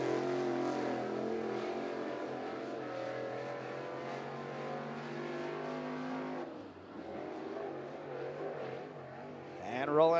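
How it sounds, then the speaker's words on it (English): Crate late model race car on a speedway, its engine droning steadily down the straightaway under continuous race-announcer commentary, dipping briefly before a rising rev near the end. "Ryan King takes the green flag down the front straightaway"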